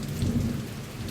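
Steady rain falls with a deep rolling rumble of thunder underneath, a continuous loud wash of storm noise with no voices.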